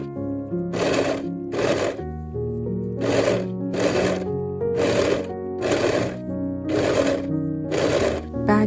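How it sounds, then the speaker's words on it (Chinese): A sewing machine stitches the two back pieces of a dress together along the centre back seam, running in eight even bursts with short pauses between, loud and close. "现在把裙子的两个后片从后中线缝起来。"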